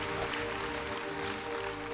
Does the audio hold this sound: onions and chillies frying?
no